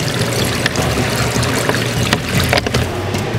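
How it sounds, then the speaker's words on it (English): Water runs through the creek of a hands-on museum exhibit where kids build dams from aluminum blocks, a continuous near trickle and splash with a few sharper clicks and knocks, no talking. "the dam, the creek over here, where kids can actually build a dam"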